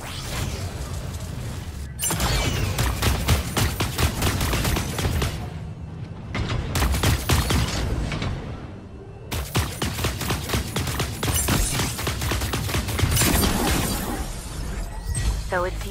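Rapid bursts of automatic gunfire crackle in dense volleys with brief pauses, loud and close, over game-like action sounds.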